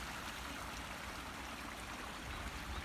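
A stream's running water makes a steady, continuous rushing and trickling wash, close by and unbroken, with no voices over it.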